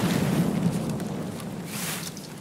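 A deep, rumbling explosion in a shooter video game, a low boom that lingers and slowly decays in a continuous rolling roar.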